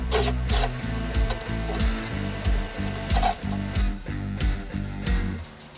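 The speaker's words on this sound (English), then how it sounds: "I always find a 6-inch hole saw to be the easiest." A power drill with a 6-inch hole saw grinds and rasps steadily through wood, its motor droning underneath with periodic bursts of scraping.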